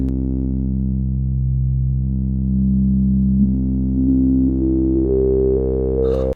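A resonant synthesizer filter stepping upward in distinct jumps over a loud, steady buzzy digital drone, ending with a short burst of noise.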